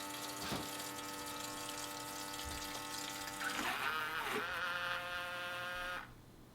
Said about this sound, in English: Okay, new water coming in.